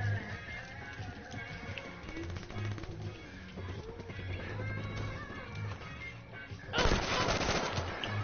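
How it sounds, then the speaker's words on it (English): Rapid automatic gunfire in the video game Call of Duty Black Ops 3, loud bursts of shots over in-game music and effects, intensifying into a dense, harsh barrage near the end. "Why do I keep shooting for no reason?"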